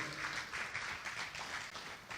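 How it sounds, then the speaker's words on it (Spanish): Applause for the Lord rises in a church service, a steady wash of clapping held at a moderate, even level throughout without breaks. "dale un aplauso al Señor"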